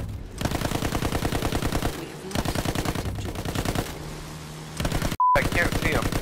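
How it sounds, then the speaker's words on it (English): Sustained rapid machine-gun fire rattles in dense bursts in a Battlefield battle against a tank, with brief pauses between volleys and a sharp cut before the shooting resumes loudly at the end. "He's shooting our tank right now."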